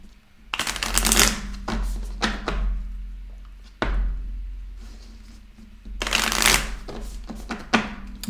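A thick tarot deck split in two and riffle-shuffled by hand, giving repeated bursts of crisp card flutter and soft thumps as the halves are squared, close and loud, with a brief pause between rounds.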